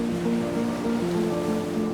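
Ocean waves at the water's edge at St Ives, a steady loud wash of surf with a continuous rushing roar and no voices.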